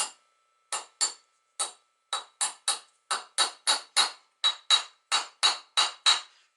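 Sharp metallic hammer blows striking the outer edge of a spindle bearing on a Grasshopper mower deck held in a vise, about eighteen close, loud strikes, irregular at first and then settling into a steady rhythm.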